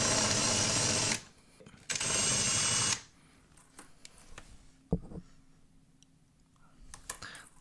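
A power drill whirs loudly in two bursts while drilling a key organizer, then stops, followed by scattered clicks and small handling knocks nearby.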